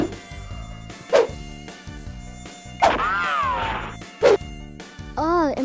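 Summer mosquito buzzing near a kid's show setting, a steady whining drone with wavering pitch that swoops up and down, interrupted by several short sharp accents, heard alone without talk.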